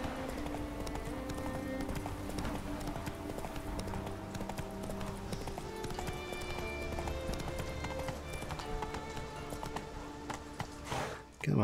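Hooves of the horse Roach in The Witcher 3 keep up a continuous rolling clip-clop at a gallop, steady and fairly loud, with game background sound and a brief thump at the end.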